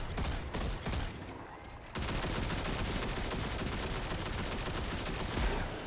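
Enemies fire at the player in Destiny 2, starting with scattered shots and then breaking into a sustained, dense stream of automatic gunfire that stays loud and steady to the end.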